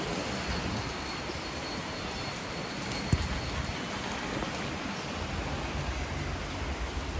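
Heavy rain pours steadily in Mumbai, a dense, even hiss of drops on surfaces throughout, with one sharp knock partway through and no talking.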